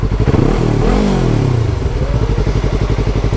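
An unmuffled motorcycle engine revs up hard and drops back, then settles into a loud, rapid, popping idle close by with no talking over it.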